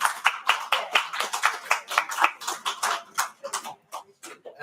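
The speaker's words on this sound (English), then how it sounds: "Okay, now you can clap." Sparse clapping at a city council meeting, a few people's hands striking in distinct, uneven claps close by that thin out toward the end.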